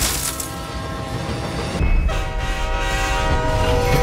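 Train rolling past on a railway track in the racing game Need for Speed: The Run, a loud steady rumble with a horn blast and ringing tones joining midway, heard alone without talk.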